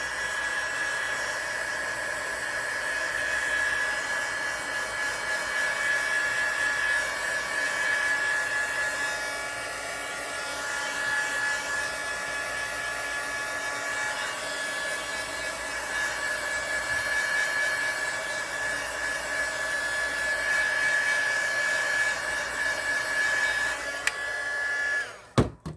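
A hair dryer blows continuously for about 25 seconds to dry paint on a cast resin rose mold, a loud steady whine with airy rushing noise, cutting off abruptly at the end.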